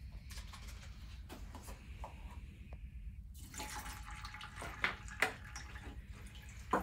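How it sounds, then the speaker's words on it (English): Water running and splashing as a bee mite sample is washed, a steady close flow from a tap with a few sharp knocks and clinks of a container, no talk. "Wash those a little bit."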